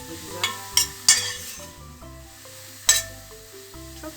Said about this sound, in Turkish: Bir tatlı kaşığı tarçınımız var. Onu atıyoruz. Karıştırıyoruz bir güzel.